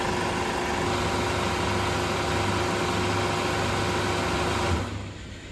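Refrigeration compressor in a refrigeration system being charged with refrigerant, running with a steady mechanical hum and tonal drone before switching off near the end, leaving a quieter background.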